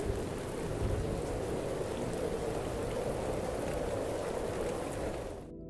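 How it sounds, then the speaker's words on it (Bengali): Steady rain with a low rumbling undertone of thunder, a stormy downpour effect for a Bengali horror cartoon set in a remote village, continuous and fairly loud before cutting off abruptly at the end. "শুরু হলো ঝড় বৃষ্টি"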